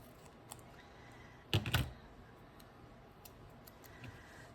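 Scissors snip through paper in one short, crisp burst of a few quick cuts, close by in an otherwise quiet room with faint ticks and rustles around it.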